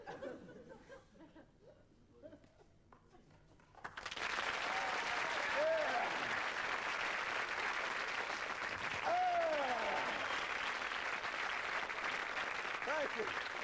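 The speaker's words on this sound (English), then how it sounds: "If I do get this going, please, applaud very quickly." A television magic show audience from 1988 bursts into loud, sustained applause mixed with laughter after a few quiet seconds of someone talking during a club-juggling act, and the clapping stays strong to the end.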